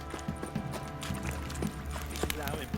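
Horse hooves clip-clop in a steady trotting rhythm in The Witcher 3, heard close, with game voices and background music layered over them.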